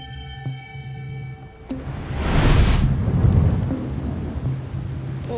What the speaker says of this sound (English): Oh, can you hear that thunder?